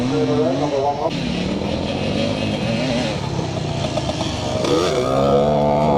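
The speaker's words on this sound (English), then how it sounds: "it's still Ian Robertson, number 100, on the two-stroke YZ 360 Yamaha" A two-stroke Yamaha YZ 360 motocross bike races at a classic scramble in Northern Ireland, its engine buzzing and revving loudly throughout with rising and falling pitch, while a commentator speaks over it.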